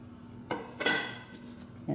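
Spinach and kale dropped into a pan, soft clanks and clinks of utensil against pan with a rustle of leaves, a few brief close knocks over quiet background.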